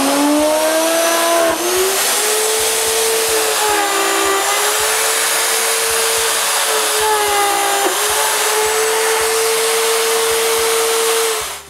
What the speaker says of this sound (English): I use my slot mortising machine.